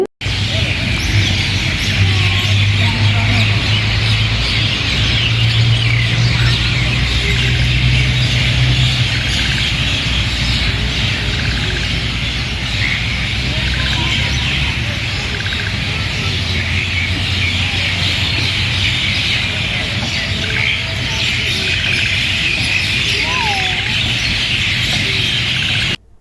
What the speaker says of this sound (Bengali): নিশ্চয় আপনারা পাখিগুলোর কিচিরমিচি শব্দ শুনেছেন